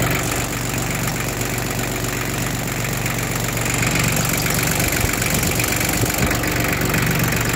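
Hinomoto E2004 tractor engine runs at a steady idle, a dense, even mechanical rumble with faint knocking, heard close and continuous without talk.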